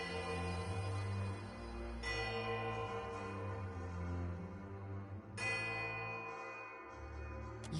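Many bells ring together in the video game Pillars of Eternity 2: Deadfire, a dense, sustained wash of overlapping peals with fresh strikes swelling in and building to a continuous loud clangor.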